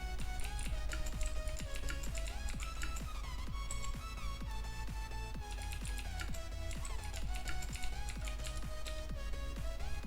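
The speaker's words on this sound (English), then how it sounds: "going for typing" Steady typing on a computer keyboard with simulated mechanical-switch sounds, a dense run of close, crisp clicks and taps continuing evenly throughout, over a faint constant hum.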